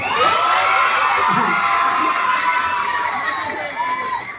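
A party crowd at an LGBTQ pride night in Parañaque cheers and shouts loudly for a contestant, a continuous close mass of excited voices and whoops with little distinct clapping.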